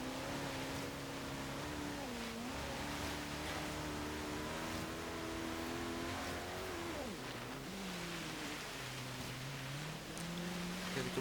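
A 2016 Koenigsegg Regera engine in Forza Horizon 3 on a snowy hill climb, droning and rising steadily in pitch as it accelerates without gear changes, a loud continuous roar with no voices.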